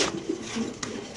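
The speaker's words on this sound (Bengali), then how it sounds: "খুব সুন্দর সুন্দর কিছু মাদি কবুতর আছে ভাই" Racer pigeons, including hens, coo in low, soft bursts close by in a pigeon loft, brief overlapping calls.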